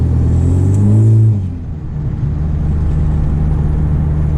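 A turbocharged Honda Civic with a 3-inch straight-pipe exhaust revs up loudly, heard from inside, its rising whine and turbo whoosh peaking after a second, then easing back to a steady rumble.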